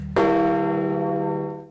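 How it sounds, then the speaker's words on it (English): A large church bell at St. Peter's tolls once, struck loud and close, its deep ringing hum carrying on and slowly fading with no voices over it. "The mournful sound of St. Peter's bells fills the air"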